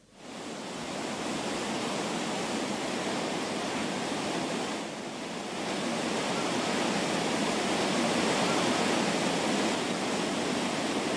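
Rushing floodwater on the Yellow River in Shanxi province, China, a dense steady roar of churning water that swells slightly midway and stays loud and continuous with no voices.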